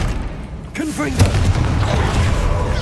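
Confringo fire spell cast in the Hogwarts Legacy video game, a sudden fiery boom followed by crackling burn and rumble, heard close under a gamer's voice and other in-game sounds.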